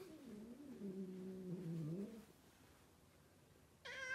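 A house cat named Good struggles to meow with a raccoon nearby: a low, strained, wavering meow drawn out for about two seconds, then a brief pause and a short, higher, clearer call at the end.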